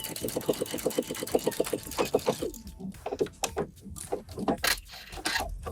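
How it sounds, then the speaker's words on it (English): A home sewing machine stitching the ends of a shorts ruffle together, a steady rapid mechanical whirring run at first, then stopping into fabric handling and a few scattered clicks and bumps. "the first thing I want to do is sew the ends together"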